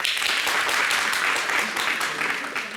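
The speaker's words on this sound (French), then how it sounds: "Elles vont applaudir les jeunes dames." An audience of young women applauds in a studio setting, with steady, dense clapping that holds throughout at moderate volume, with a faint voice now and then beneath it.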